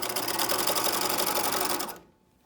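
A sewing machine stitches elastic onto fabric for underwear, running in a fast, even, close mechanical rattle for about two seconds before stopping abruptly.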